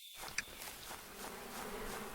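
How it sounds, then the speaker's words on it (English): A bee buzzes in the beekeeping video game APICO, a faint, steady insect hum lasting a couple of seconds alongside a soft chime, with no talk. "What's this bee?"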